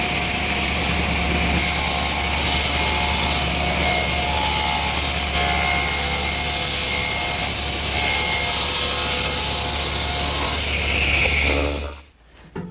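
A table saw rips a thin strip off the edge of wooden boards to straighten it, the blade noise steady and loud throughout before winding down near the end.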